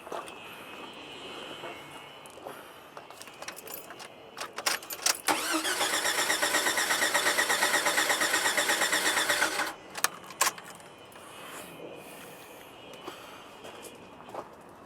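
A car engine cranks steadily for about four seconds on power from a UIBI S600 99Wh 5000-peak-amp jump starter, a fast rhythmic churning that stops abruptly, with clicks and faint background noise before and after.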